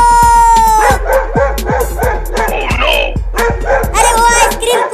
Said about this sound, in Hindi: देख भौंक रहा है।